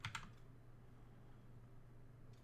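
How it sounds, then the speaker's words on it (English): A computer keyboard gives a couple of quick, faint key presses at the start, then only a low steady hum remains. "I use the delete key."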